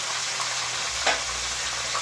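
Steady, close sizzling of tilapia frying in hot oil, a continuous crackling hiss with one brief louder pop partway through.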